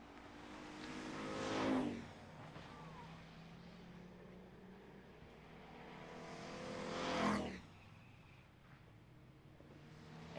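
Super street stock race cars racing at Mesa Marin Raceway, two loud engine pass-bys a few seconds apart, each roaring up and dropping away quickly, with faint engine noise between.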